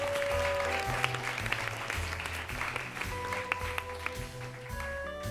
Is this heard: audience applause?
yes